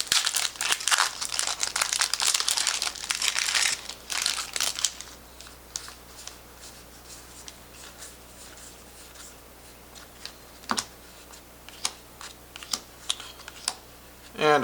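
Crinkly plastic crackling of a Magic: The Gathering Throne of Eldraine booster pack wrapper being torn open, loud and busy for about five seconds, then a few sparse, quieter crinkles and taps.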